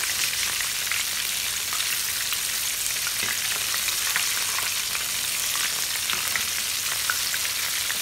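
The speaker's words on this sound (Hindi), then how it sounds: "लेकिन अभी ये फ्राई होना शुरू हो गए।" Albaik-style chicken broast fries in hot oil with a dense, continuous, loud sizzle and crackle that stays steady and close throughout.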